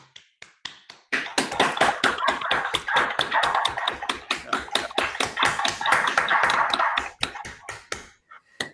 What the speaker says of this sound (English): we can unmute ourselves and applaud Ryan